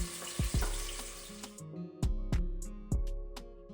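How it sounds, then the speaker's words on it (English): Sliced onion and habanero peppers dropped into a pot of hot canola oil, a loud sizzle that dies down, followed by several sharp clattering knocks and taps of utensils, close with no talk. "Next, we add a sliced onion, and the habanero peppers."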